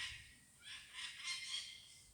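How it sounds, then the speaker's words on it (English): Distant birds honk in a few overlapping calls, faint and airy, with no voices nearby. "Oh, the birds."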